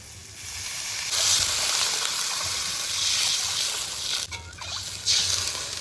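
Broadband hiss of water hitting a pan of fried spice paste, with turmeric and Kashmiri chilli powder, for a catfish curry, rising at about one second and surging again near four and five seconds, loud and close.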